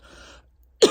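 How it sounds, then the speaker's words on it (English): A single sharp, loud cough from someone suffering a persistent, rib-straining cough bursts out near the end after a stretch of quiet low murmur. "I just can't get the coughing to stop."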